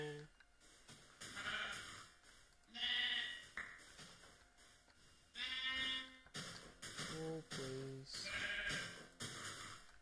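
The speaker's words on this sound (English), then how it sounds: "More sheep, I need your wool." Sheep in the Minecraft video game bleat in several short, loud, wavering cries at close range, separated by brief pauses, with a voice speaking between them.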